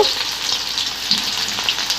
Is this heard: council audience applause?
no